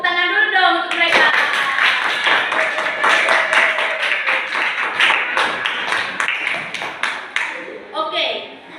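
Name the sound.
audience clapping for discussion presenters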